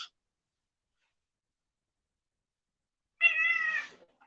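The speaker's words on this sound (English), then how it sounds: "Y'all hear my cat?" A pet cat meows once, a single drawn-out cry near the end, after a long quiet stretch, wanting to be let outside.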